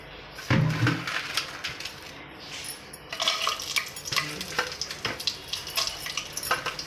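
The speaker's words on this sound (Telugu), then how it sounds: "ఇప్పుడు నెయ్యి వేసుకుంటున్నాను" Ghee goes into a hot pan already holding oil for chicken biryani and curry, bringing a close, bright sizzle with scattered clinks of utensils and a rising crackle that continues steadily without speech.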